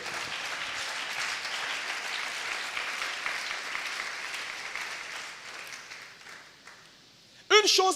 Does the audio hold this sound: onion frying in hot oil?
no